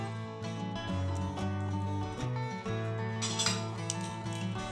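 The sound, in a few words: sunflower oil poured into hot wok, pan clinking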